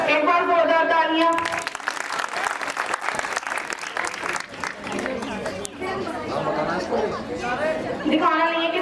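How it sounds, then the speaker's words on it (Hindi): A farewell party audience bursts into loud, sustained clapping that fills most of the moment, with voices speaking before it starts and again as it dies down. "एक बार जोरदार तालियां।"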